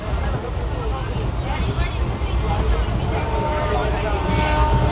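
Local train running between Junagadh and Rajkot, heard from inside a carriage as a steady loud rumble and rattle of wheels on track, with passengers chattering faintly throughout.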